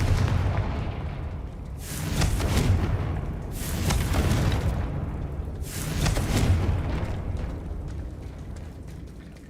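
Blasting spell explosions from Hogwarts Legacy boom in three heavy, rolling bursts a couple of seconds apart over a constant rumbling game backdrop, with no talking.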